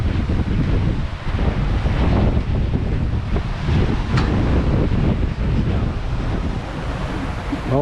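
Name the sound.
strong wind gusting between islands on a sailboat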